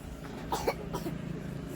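A couple of short, quiet coughs sound close by, followed by soft background noise.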